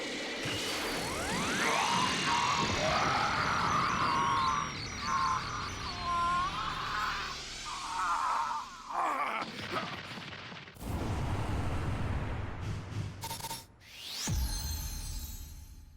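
A loud Special Beam Cannon attack from the video game Dragon Ball Z: Kakarot gives a sustained roaring energy blast with sweeping tones, then cuts abruptly into heavy rumbling bursts.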